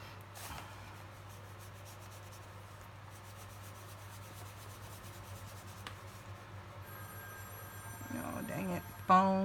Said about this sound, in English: That phone rings all day long.